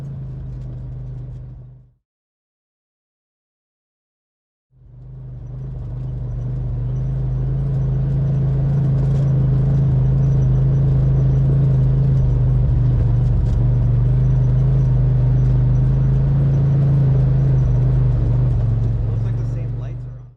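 An off-road Razor side-by-side drives at night toward a cabin near Jadwin, Missouri, by the Lake of the Ozarks, its engine rumbling loudly and steadily after a brief silent gap.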